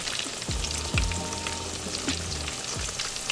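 Salmon sizzling steadily in a hot frying pan, a dense crackling hiss with a few soft clanks of a utensil, close by.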